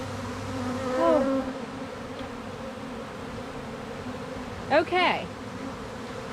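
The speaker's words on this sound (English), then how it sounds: "but there's a bunch of bees in the grass." Honey bees swarming in grass, a steady low insect hum running throughout, with a brief voice near the start and a short bright rise of buzzing near the end as bees pass close.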